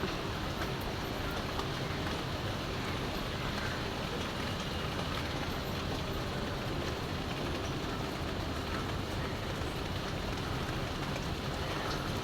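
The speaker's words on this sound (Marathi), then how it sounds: "बघा किती पाऊस चालू आहे आमच्यावर" Heavy rain falls outdoors as a dense, unbroken hiss that stays at the same level for about twelve seconds, with no distinct drops or voices.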